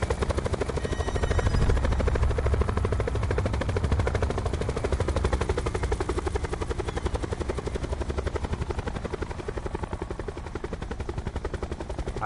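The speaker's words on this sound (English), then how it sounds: "I don't normally do this with a chopper, but I gotta take the chopper" Helicopter rotor chopping loudly and steadily in the Call of Duty Blackout video game, close and constant throughout, with a faint burst of gunfire-like crackle mixed in.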